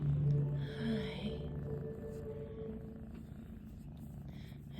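A bottle-fed kitten purrs close and steady, a low continuous rumble that runs through the whole stretch and stays loudest near the start, with no talk over it.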